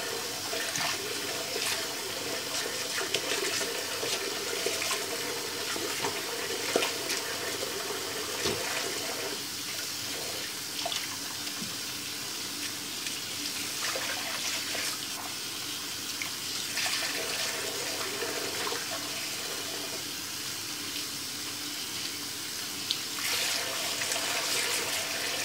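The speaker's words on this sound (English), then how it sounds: "I just have to like put it on the running water and I'll use my big tooth comb to comb through the hair." A human hair wig is rinsed under a running tap in a sink, steady water noise pouring continuously throughout with small splashes and shifts as a wide-tooth comb is worked through the wet hair.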